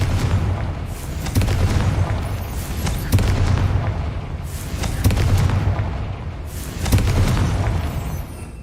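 Confringo explosive spells in the Hogwarts Legacy video game, a rapid series of deep booming blasts repeating roughly every second over a continuous rumbling game soundscape, loud and close, with no voices.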